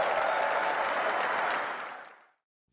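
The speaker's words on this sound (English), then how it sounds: "Trump said the comment, and then you heard the clapping." Supporters at a Trump speech break into loud applause and cheering, a dense burst of clapping that holds steady and then fades out quickly.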